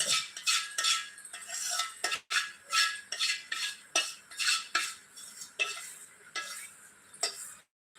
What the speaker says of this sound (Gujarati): આ રીતે આપણે હલાવતું જવાનું છે